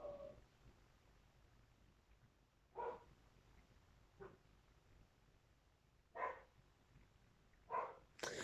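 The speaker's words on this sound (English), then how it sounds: "that was my dog outside barking at absolute nothing" A dog barks outdoors in a few short, separated bursts spread across the stretch, fairly distant and moderately loud against a quiet background.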